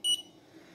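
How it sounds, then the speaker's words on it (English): A smoke sensor module on a highway accident-detection prototype sounds one short, high-pitched electronic alert beep, clear and close, then fades into faint background hum. "Smoke alert"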